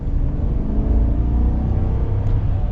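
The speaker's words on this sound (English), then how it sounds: "let's get our acceleration here with the RST" A 2021 Chevy Silverado 1500 RST with the 5.3-litre V8 pulls hard under acceleration, giving a loud, steady engine roar and low rumble that holds without a break.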